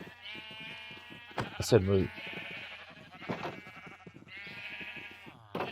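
Sheep in Minecraft bleat in a few wavering cries while someone speaks over them, with a short clatter near the middle.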